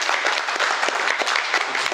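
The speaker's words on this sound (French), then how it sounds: "on peut l'applaudir" Steady audience applause fills a talk on energy independence and sobriety in Lyon, dense and continuous throughout with no pauses, a roomful of hands clapping at even loudness.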